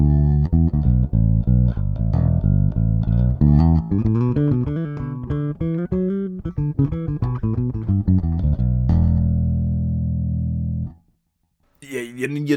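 Hohner B2 headless bass guitar played with both pickups full and tone at maximum, a close, loud run of plucked notes ending in a long sustained note, then a brief pause before talking starts.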